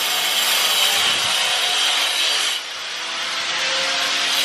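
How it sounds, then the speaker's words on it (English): Rivets being cut off the frame of a C10 pickup truck during a bed conversion make a loud, continuous, harsh grinding rasp that shifts slightly in tone partway through, close up with no talking. "cutting some rivets"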